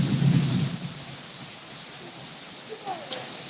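A deep rumble of thunder opens a severe storm, then fades into a steady hiss of heavy rain falling, with faint distant sounds later on.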